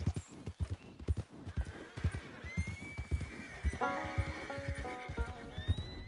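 Hooves clip-clop in an irregular rhythm from a horse in Red Dead Redemption 2, joined midway by a loud, shrill whinny, with game music tones in the background.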